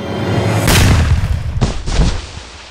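A single loud gunshot boom in a Russian roulette scene from a dubbed movie, followed by a second sharper report and a rumbling tail, with no talking.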